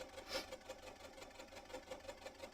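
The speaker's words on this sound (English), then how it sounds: "I guess the hum of the sewing machine." A sewing machine hums softly with a steady, faint rhythmic pulsing, alone and fairly quiet in a room.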